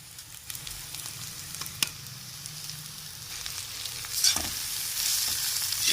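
Stuffed bitter gourd masala fries with onion in hot oil, giving a continuous soft sizzle and occasional stirring scrapes; it grows a little louder and busier toward the end.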